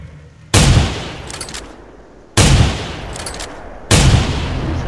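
Three loud, booming gunshots from a rifle fired at a T-Rex in the hunting game theHunter: Primal, each a sharp blast with a long decaying rumble, spaced roughly two seconds apart.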